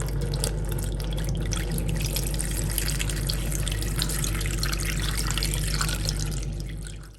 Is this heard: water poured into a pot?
yes